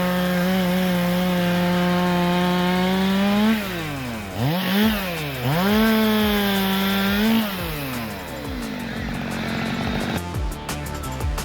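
A chainsaw cuts into a tree stump, loud and close. Its engine pitch dips and climbs as it bites into the wood, then it settles into rougher, rattling cutting toward the end.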